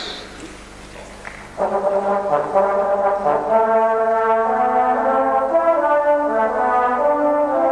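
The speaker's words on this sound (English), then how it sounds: "In the center of the band, immediately in front of me, we have the horns." Horn section of a youth brass band sounding sustained, harmonically rich notes, swelling in after a quiet opening and holding steady chords close by, with no talk over them.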